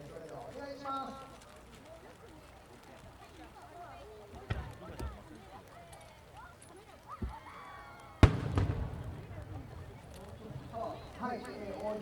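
A botan (peony) firework bursts at a fireworks expo at Nishikinohama, Osaka: a sudden loud boom cracks out late on and rolls into a sustained rumble, after a few fainter earlier pops over a steady murmur of crowd voices.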